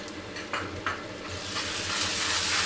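Ginger garlic paste sizzles in hot oil in a kadhai as a spoon stirs it, with a couple of light scrapes early on and frying that swells steadily louder.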